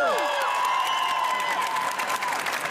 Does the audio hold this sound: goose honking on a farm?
no